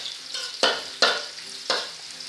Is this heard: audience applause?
no